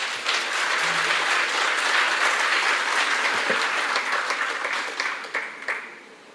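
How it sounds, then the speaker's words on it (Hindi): Loud, sustained applause from a large audience at an event in Thailand, steady across the clip and thinning out toward the end. "थाई देश के सरकार के लिए एक जोरदार ताली हो जाए"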